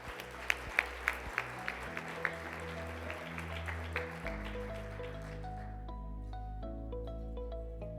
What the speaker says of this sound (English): Join me in a round of applause for Cormac Murphy